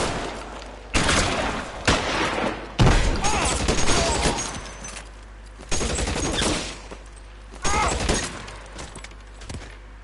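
Gunfire erupts in a shootout in the game L.A. Noire: repeated sharp bursts of shots in uneven clusters, loud and close, with brief gaps between volleys.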